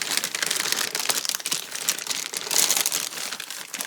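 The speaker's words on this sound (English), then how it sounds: "Let's tear this thing open." Plastic packaging around an R-Tech welder's cable is torn and crinkled open, making a dense, continuous rustling and crackling close up, with no talking over it.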